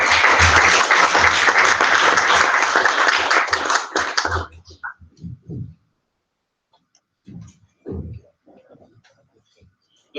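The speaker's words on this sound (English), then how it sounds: "Let's give another round of applause to the panel." Audience applause for a university panel, loud close clapping from many hands for about four seconds that breaks off into a few scattered claps and faint murmuring before near silence.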